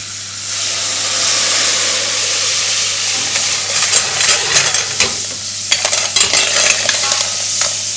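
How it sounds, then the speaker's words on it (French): A hot pan used for a pork filet mignon sauce is deglazed with alcohol, letting out a loud, continuous steamy hiss and sizzle with sporadic stirring clatter toward the end. "Et là, on va déglacer avec l'alcool"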